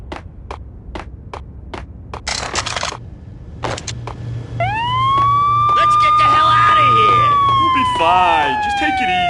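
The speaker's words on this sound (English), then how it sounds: "I'm allergic to sirens." A police siren wails loudly, rising and sweeping in long tones after several sharp knocks and bangs, with a low hum underneath.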